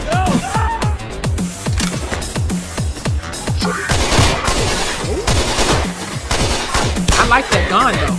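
Automatic gunfire in the shooter game Counter-Strike Online, in the Madness Infiltration mode, sounding as rapid bursts of close, loud shots across the whole stretch, with a person talking over them.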